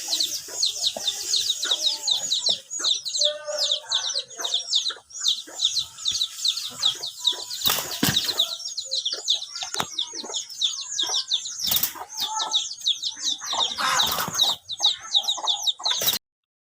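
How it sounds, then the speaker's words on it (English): Male chickens squabble behind a fence, with dense continuous clucking and squawking, close and loud throughout, broken by a few sharp bursts of wing flapping and scuffling. "Here's some chickens trying to fight each other between the fence."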